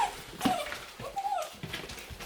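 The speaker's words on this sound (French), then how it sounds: "j'ai le chien qui pleure un peu" A dog whimpers inside a small mountain holiday cottage, a few short high whining cries rising and breaking over quiet room sounds, fairly close.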